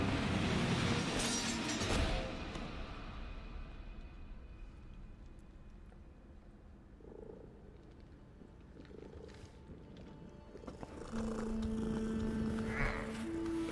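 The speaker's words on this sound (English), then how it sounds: "It's the kitty again." Hairless cat creature in the video game Warframe, purring and growling low and rumbling, quieter in the middle and louder again near the end, with game sounds and no talk.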